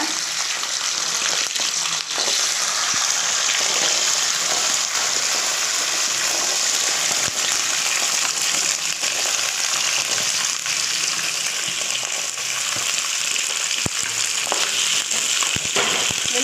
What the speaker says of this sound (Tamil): கடுகு பொரிஞ்சிச்சு இப்போ இந்த மிளகா போட்டுக்கலாம் பூண்டு நெல்லிக்காயும் அதுவும் சேர்த்துக்கலாங்க